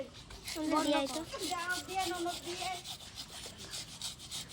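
Himsagar mangoes rubbed against a grater for mango mash in a village home: a steady, scratchy rubbing runs close by through the whole stretch, with a voice talking over it.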